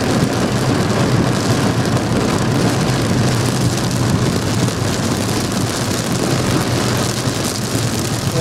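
Heavy, continuous rain pours down steadily during a thunderstorm, a loud, dense, unbroken wash of falling water with a deep low rumble underneath and no voices.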